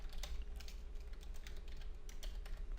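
Rapid keystrokes on a computer keyboard, typing a search query, with a steady run of light clicks close up and no voices.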